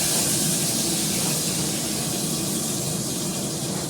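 Fresh fish frying in a steel pan, a dense, steady hiss of spitting oil holding loud and even from start to finish with no voices over it.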